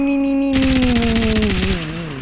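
Loud rapid automatic gunfire in a first-person shooter video game, one continuous burst of about a second with dense repeating shots and a ringing tone underneath before it cuts off.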